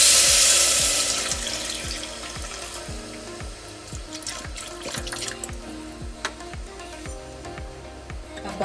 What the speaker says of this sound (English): we are going to come in with our milk